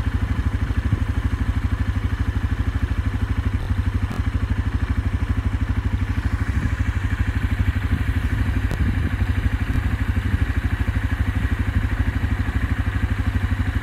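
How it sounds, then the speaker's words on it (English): A steady, loud tractor engine drones continuously with a low rhythmic chug and faint rattling while spreading manure with a drag hose, holding constant throughout without any voices. "Look at that blue tractor go."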